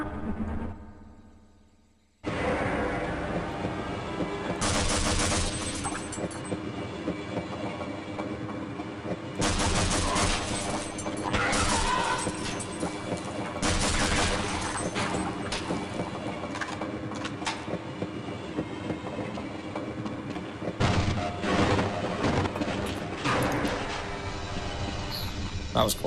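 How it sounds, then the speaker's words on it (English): Train ride in the game Half-Life, with a loud, steady rumble of the rail car running throughout and several sharp bursts and clanks on top, the sound continuing almost unbroken after a brief quiet start. "But we are going to get on the train."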